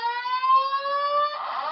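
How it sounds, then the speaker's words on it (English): A hotel fire alarm sounds a loud, sustained electronic tone close by, holding steady before breaking into a harsher burst near the end. "the hotel fire alarm's going off."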